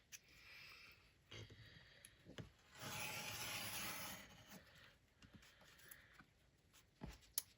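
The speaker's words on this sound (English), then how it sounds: "what we're going to do here is just score this guy" An X-Acto knife drawn along a ruler scores a cardboard journal cover in short close scrapes and rubs, with one longer steady rasping stretch in the middle and scattered light taps around it.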